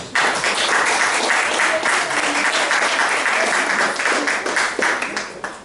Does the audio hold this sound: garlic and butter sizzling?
no